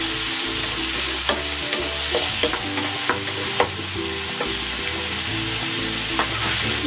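Tomatoes dropped into a frying pan for egg sarciado set off a loud, steady sizzle, with scattered clinks and stirring scrapes on top and no voices.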